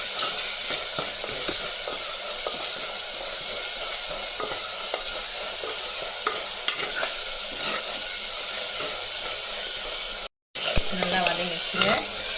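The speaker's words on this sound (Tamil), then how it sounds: "தக்காளி வெங்காயம் நல்லா வதங்கட்டங்க" Chopped tomato and onion sauté in a hot pan for sambar, a steady close sizzle with occasional stirring scrapes, briefly cut off near the end.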